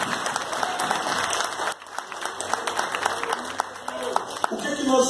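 A church congregation applauds steadily in a dense wash of clapping that briefly thins, then swells again, close and loud with some voices mixed in.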